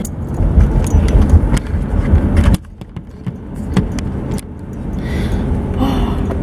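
Car interior while driving, a steady engine and road rumble throughout, loud at first, then dropping suddenly to a quieter hum with a few clicks before building again.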